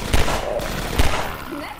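Gunfire in the video game Half-Life 2: Episode One, two sharp shots about a second apart, loud and punchy over game ambience.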